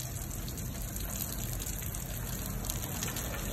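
Water gushing steadily through the supply pipes of a tower aquaponics system, a dense, continuous rushing and splashing flow that holds constant and fairly close for the whole stretch, with no talking.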